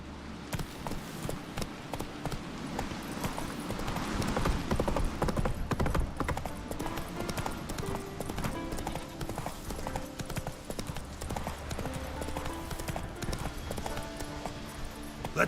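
Roach, a horse in The Witcher 3: Wild Hunt, gallops with steady rhythmic clip-clop hoofbeats throughout, close and clear over a game music bed, with a faint whinny in the mix.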